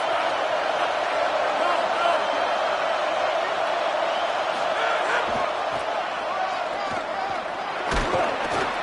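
A stadium crowd in a College Football video game, TCU at Texas Tech, roars in a continuous wash of cheering that swells and holds. A commentator talks over it, with a couple of sharp thumps near the end.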